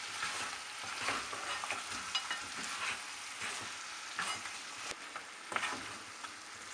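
Mutton curry with red chili powder being stirred in a pan, a steady close sizzle of frying with scraping spoon strokes throughout, no voices.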